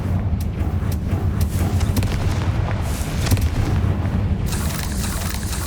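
Explosive spell blasts boom in the Hogwarts Legacy video game, heavy and continuous low rumbling with repeated sharp cracking impacts layered over dense battle noise, loud and close throughout.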